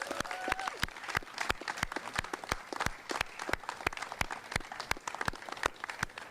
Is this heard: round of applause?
yes